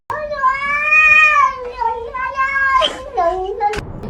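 A cat in a played-back clip gives several long, wavering meows and drawn-out caterwauls, loud and close, ending with a short sharp sound.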